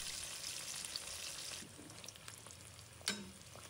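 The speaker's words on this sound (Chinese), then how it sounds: "油温升高后，再把鱼片放回锅中复炸，直到炸至金黄色" Fish slices being refried in hot oil over high heat until golden, giving a constant bubbling sizzle with a few louder pops and a brief stir near the end, quiet and close.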